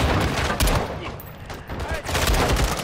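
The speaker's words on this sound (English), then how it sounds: "Suppressive fire!" Suppressive gunfire in Call of Duty: Modern Warfare 2 brings dense bursts of automatic rifle fire that come in rapid clusters with short gaps, loud and close, while voices shout in the middle of the combat.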